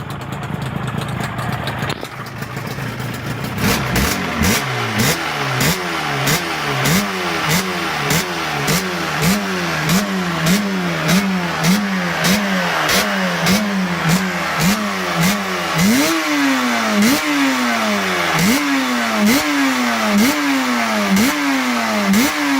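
Liquid-cooled motorcycle engine with four 28 mm Mikuni carburetors, producing 59 horsepower, revving repeatedly in a steady rhythm of sharp rising blips after a short idle, loud and close throughout with no talking.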